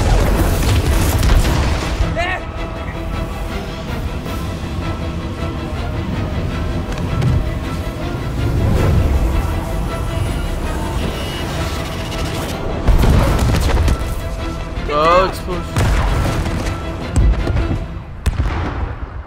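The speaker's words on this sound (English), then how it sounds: "Explosions!" Explosions and heavy booms burst repeatedly through Spider-Man video game action, loud and close, with several sharp blasts standing out over a dense, continuous din of game sound and occasional talk.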